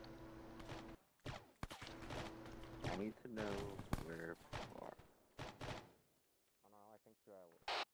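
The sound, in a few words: gunfire in a video game (Cerberus Company)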